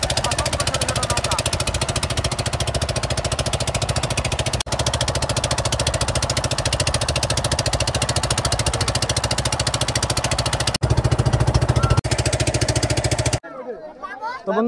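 Small motorboat engines chug steadily across flood water, a continuous close mid-pitched drone that briefly swells louder near the end before cutting out.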